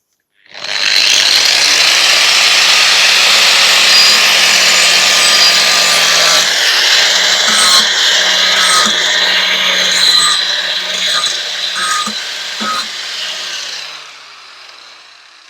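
An angle grinder cuts into inch-thick wooden roof shingles for a birdhouse, making a loud, continuous abrasive whine and roar up close. It runs steadily for about thirteen seconds, then eases off and fades out.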